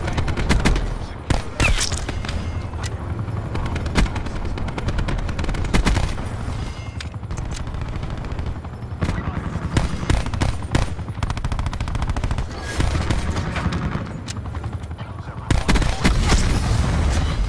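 Rapid pistol gunfire in Call of Duty Black Ops 4, with a near-constant stream of sharp shots, quick bursts and fast repeated cracks over busy multiplayer combat noise, with occasional low booms in the mix.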